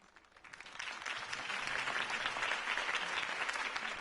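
Applause from a crowd at a campaign speech in a Batman video game swells from near silence into sustained, dense clapping that holds steady for several seconds.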